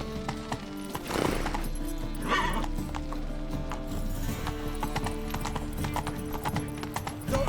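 Roach, Geralt's horse in The Witcher 3: Wild Hunt, gallops with a fast, steady clip-clop of hooves and a brief snort or whinny partway through. Game music and ambience sit underneath.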